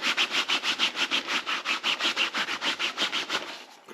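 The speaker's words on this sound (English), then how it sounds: "Let me give it a wipe on the trousers." A metal lid, lettered on one face and found out in the open, is rubbed briskly against cloth trousers in a steady back-and-forth scrubbing rhythm, close and fairly loud, with about twenty quick strokes and no talking.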